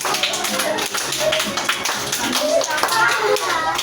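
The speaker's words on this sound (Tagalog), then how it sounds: "Palakpak" Kindergarten children clap in a classroom, quick irregular hand slaps close by mixed with children's chatter and an adult voice talking throughout.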